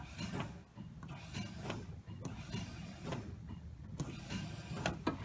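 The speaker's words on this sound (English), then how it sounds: "My starter doesn't sound happy." An electric starter on a generator cranks in short, uneven mechanical bursts with clicks and whirring pulses, fairly quiet and strained, with no voices during the attempts.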